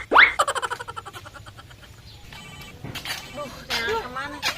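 An incoming phone call rings out as a loud, repeated electronic ringtone with a bright pulsing rhythm, fading into softer tones; voices speak and overlap with it later.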